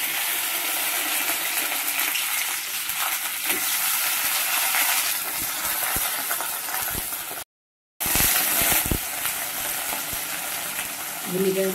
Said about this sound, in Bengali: প্রথমে তেলে ভেন্ডিটা ভেজে নেব।